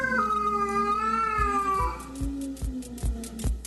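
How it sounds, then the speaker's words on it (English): Cats caterwaul while mating, drawn-out wavering howls rising and falling in pitch, followed by a series of sharp, evenly spaced clicks or thumps. "This was the sound of the cats having sex."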